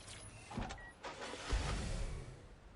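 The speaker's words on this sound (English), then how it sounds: "I can just grab this one, drive it straight in the water." Car in the Watch Dogs: Legion video game, brief mechanical whirs and engine-like rumbles with a couple of thuds, moderately quiet and with no voices.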